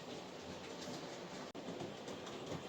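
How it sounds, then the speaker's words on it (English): A small model train locomotive hauls wagons around a layout track, giving a steady, even rolling rumble and rattle throughout with no talking. "We'll just have a few running shots of this wee locomotive and this wee train going round."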